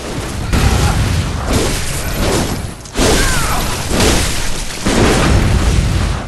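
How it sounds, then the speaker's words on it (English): Rifle spear shots and heavy impacts ring out in Bloodborne's Lecture Building, a series of loud booming bursts roughly every second or so with mechanical clatter between them, close and dominant. "You can tell the utility in what he's using with the rifle spear, because it still allows you to get off that shot."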